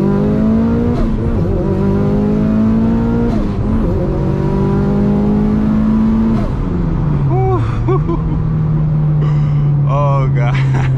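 A 2005 Mitsubishi Evo 8 MR accelerating hard in first gear, its engine loud and close as the pitch climbs in repeated rising pulls with a brief dip between them.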